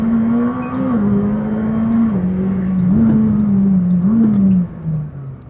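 A McLaren 600LT road-legal race car engine roars loudly near the microphone, its pitch climbing and dropping in quick steps as it upshifts, then easing off sharply at the end.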